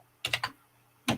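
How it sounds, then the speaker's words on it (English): Computer keyboard typing: a quick run of three clicky keystrokes, a pause, then one more key press, close and fairly loud against a quiet room. "Wrong keyboard. sitting here typing away."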